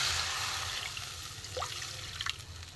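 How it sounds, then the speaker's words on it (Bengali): A little water poured into a pan of cabbage and egg curry gives a soft trickle and a couple of brief splashing drips over a steady background hiss. "জল দিয়ে দেবো, অল্প করে জল দেবো।"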